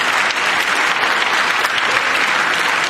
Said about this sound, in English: That's the first time the Democrats clapped for anything